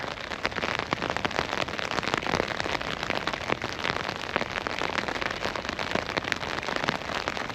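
A heavy rain shower pours down outdoors at a fishing spot, a dense, loud hiss of drops drumming on surfaces with sharp crackling spatters throughout.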